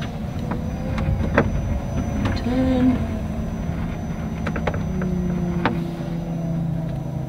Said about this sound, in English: when I lift my foot off the brake, it's just gonna go